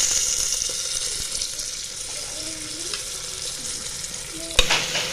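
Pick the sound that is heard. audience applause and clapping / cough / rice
rice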